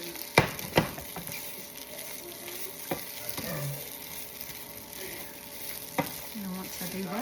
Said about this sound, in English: I'm just gonna stir it back and forth in the pan.